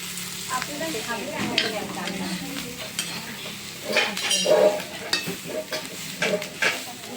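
Chillies fry and are stirred in a pan, giving a moderate sizzle with irregular scraping and the light clink of a metal utensil against the pan, close by with no talk.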